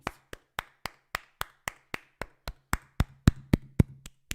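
A single pair of hands claps in a slow, even rhythm, about a dozen sharp, crisp strikes, close and fairly loud, with a faint low hum building toward the end.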